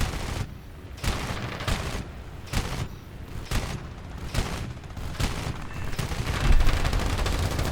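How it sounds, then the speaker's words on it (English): Anti-aircraft flak fire from War Thunder crashes out in repeated sharp bursts, roughly a dozen loud blasts at irregular intervals with rumbling between them, and no talk. "Flak's still opening up"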